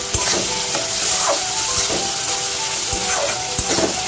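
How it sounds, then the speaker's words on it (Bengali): Spice paste with green chilies fries over medium flame in a pan for tilapia tel jhal, a steady loud sizzle with occasional spatula scrapes and soft crackles throughout. "ভালো করে কষিয়ে নেবো মশলাটাকে মিডিয়াম ফ্লেমে রয়েছে"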